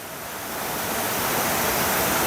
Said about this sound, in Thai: ลำธารก็ไหลเย็นสบายค่ะ